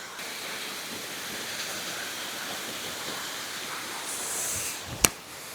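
A mountain waterfall on a hiking trail in the mountains of Chiang Mai rushes as a steady, moderately distant hiss of falling water, with a sharp click near the end.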